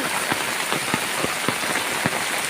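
Heavy morning rain pours down in a dense, continuous hiss, with scattered louder drops striking a surface close by and no voices over it.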